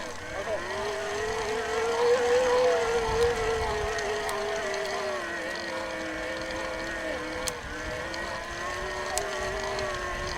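Brose motor on an older, high-mileage Specialized Kenevo 2.1 e-bike runs with a steady, close mechanical whine and drone, shifting slightly in pitch, with faint chain guide rattle and small clicks throughout.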